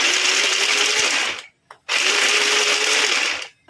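An electric chopper whirs loudly in two bursts, each a steady high-pitched buzzing drone lasting about a second and a half, separated by a brief pause with a short clatter as it chops chocolate recipe ingredients.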